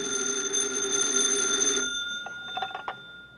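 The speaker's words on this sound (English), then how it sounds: "Special Agent Jim Taylor is at his desk when his phone rings." A telephone bell rings in an FBI field office in a 1951 radio drama sound effect, a steady sustained ring for about two seconds, then cut off, followed by a few faint clicks of the receiver being handled.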